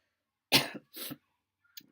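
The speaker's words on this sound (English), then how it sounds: "I have coughed recently." Two harsh coughs in quick succession, close and loud, followed by a short quiet throat sound after a pause.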